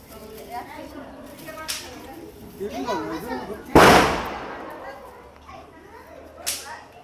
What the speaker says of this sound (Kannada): ಏ ಕೃಷ್ಣ ಪಟಾಕಿ ಹೊಡೆದು ನನಗೆ ವಿಡಿಯೋ ಮಾಡೋ ನೀನು